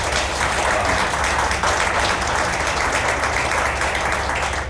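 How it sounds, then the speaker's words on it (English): Roomful of people at a county Republican roundtable giving a commissioner a sustained round of applause, dense clapping holding steady from start to finish. "And one more round of applause for Commissioner Griffitts."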